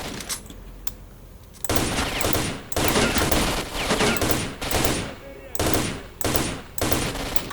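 Bursts of automatic gunfire in Stalker: Shadow of Chernobyl, several loud rapid volleys separated by short pauses, with a few isolated shots early on.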